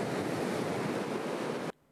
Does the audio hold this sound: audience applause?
no